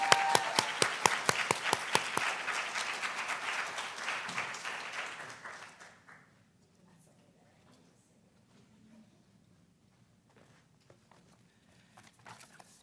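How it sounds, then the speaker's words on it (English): Commencement audience at a Native tribal and Indigenous ceremony applauds with strong, sharp claps near the start, then the clapping thins and fades out after about six seconds into quiet room tone with faint stray noises. "Please give her a round of applause."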